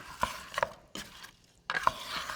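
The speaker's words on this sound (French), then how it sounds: "Je vais bien mélanger" Utensil stirring eggplant and thyme in a Tupperware microwave dish, three short clusters of scraping and light clicking, quiet and close with pauses between strokes.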